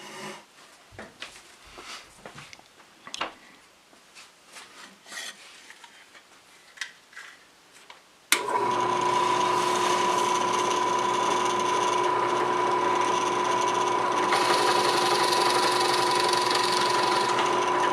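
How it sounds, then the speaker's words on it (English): A drill with a 3/8 inch Forstner bit bores holes in wood for screw plugs on a patio chair. Scattered handling knocks come first, then a loud, steady whine of the drill motor cutting runs continuously to the end. "So we'll drill these out right now with a 3/8 inch Forstner bit."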